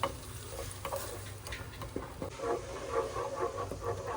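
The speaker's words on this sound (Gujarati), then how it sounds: "હવે આપણે આમાં પાલકની પેસ્ટ એડ કરી દેવાની છે અને સારી રીતે ચડવા દેવાની છે પેસ્ટને." Spinach paste sautéing in a pan for palak khichdi, a continuous moderate sizzle with soft stirring scrapes and light bubbling, no speech.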